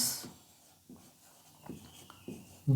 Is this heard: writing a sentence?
yes